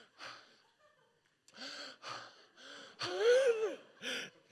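A voice imitates heavy panting after running to catch a bus, a series of breathy gasps and wheezy huffs in quick uneven bursts, close and fairly quiet, with no real exertion behind it.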